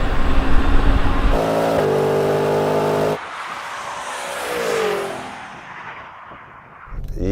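A Tesla Cybertruck and a Ford F-150 Raptor R drag race: a loud roaring launch with engine revving and a shift-like change, then the sound sweeps away and fades into the distance before rising noise returns.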